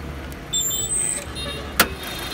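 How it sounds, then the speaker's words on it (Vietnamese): A 2003 Nissan X-Trail petrol engine with automatic transmission and four-wheel drive idles with the bonnet open. It gives a steady, moderate low rumble, with a brief sharp click partway through. "Đang nổ máy nhá."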